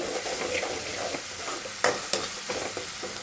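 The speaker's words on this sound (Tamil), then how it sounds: "இந்த அளவுக்கு இஞ்சி பூண்டு பேஸ்ட்டு போதுமானது நல்லா எண்ணெயிலேயே அதையும் வதக்கிக்கலாம்" Ginger garlic paste sizzles steadily in oil in a pan while being stirred for a squid dish, with a few sharp scraping clicks of a spoon against the metal.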